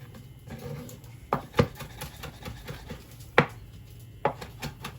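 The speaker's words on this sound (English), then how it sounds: "we're just going to run our knife through just roughly to break that rosemary down" A knife strikes a cutting board in several sharp, uneven chops through rosemary, close and fairly loud, with quieter rustling between them.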